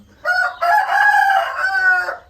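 A Thai fighting-breed rooster used as a breeding sire crows nearby, one full loud cock-a-doodle-doo of about two seconds with a brief break near the start, heard alone without talking.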